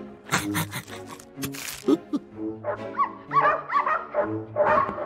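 A small cartoon dog yaps and whimpers in short bursts, close and fairly loud, with animated-episode music or effects around it.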